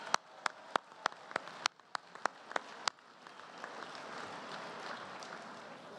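An audience at the White House Correspondents' Dinner claps. About ten sharp, spaced cracks open the sound, then it gives way to a softer, steady wash of applause.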